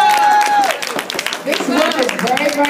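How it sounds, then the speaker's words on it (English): Clapping and applause from a crowd at the Bronner Brothers barber competition, a continuous loud patter with voices and whoops mixed in throughout. "Yeah, give us a clap. Give them a big round of"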